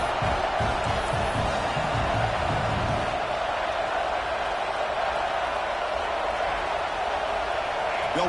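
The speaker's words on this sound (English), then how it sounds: "the crowd coming to life here, trying to help this defense down in the red zone" Football stadium crowd roaring as the home defense defends its goal line, a dense, steady wall of cheering noise that swells slightly, heard under a commentator's voice.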